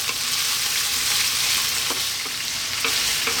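Steady, lively sizzling of potato and eggplant frying with spice seeds in a hot pan above medium heat, a dense crackle with occasional small pops, no voices.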